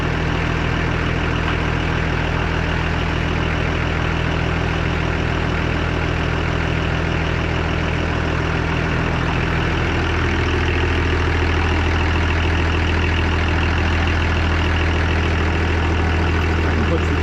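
An Oliver 1800 tractor idles on a cold day, a steady loud low rumble with an even drone that holds throughout, with a slight shift in pitch partway through and occasional faint voices.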